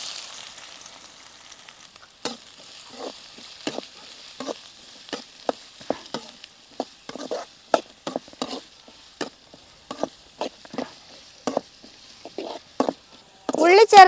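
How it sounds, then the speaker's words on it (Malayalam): Two large finely chopped onions dropped into hot oil for a crispy chicken bread roll filling, a sharp burst of sizzle followed by a run of close scraping stirs and crackles over quiet frying, no talking. "എണ്ണ നന്നായിട്ട് ചൂടായിട്ടുണ്ട്. നമുക്ക് ഉള്ളി അരിഞ്ഞത് ഇട്ട് കൊടുക്കാം."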